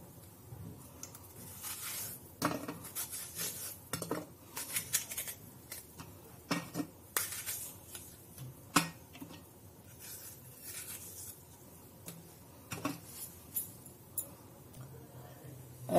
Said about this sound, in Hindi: अब इसको काट के छोटे छोटे पीस करेंगे।